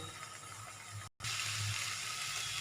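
Drumstick leaves cook in a pan over a medium flame, giving a steady close sizzle and faint bubbling that drop out for a short moment and then resume at the same level.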